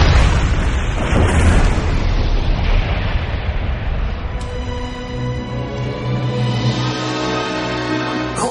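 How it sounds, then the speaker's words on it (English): A planet explodes and its debris destroys a spaceship in a Lost in Space film scene: a loud, broad rumbling blast that roars for several seconds, then gives way to sustained orchestral music. "the ship with his family is destroyed by the debris of the planet"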